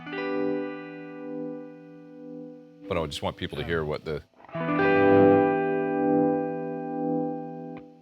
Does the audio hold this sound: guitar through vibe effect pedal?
yes